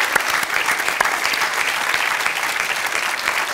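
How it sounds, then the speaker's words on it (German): Studio audience at a comedy show claps steadily, a bright, even burst of applause lasting a few seconds with no voices over it. "Großen Applaus für den bösesten Menschen am Set."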